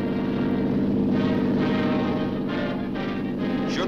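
A speedboat tows a helicopter hydro-glider over open water, its engine droning loud and steady throughout with a slight rising and falling of the roar.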